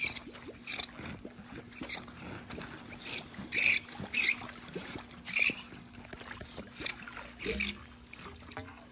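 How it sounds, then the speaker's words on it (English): A garden hose pushed down into swimming pool water fills with water, giving irregular splashing, gurgling and sloshing bursts at close range over a faint steady hum. "Now, we simply just push the hose into the water."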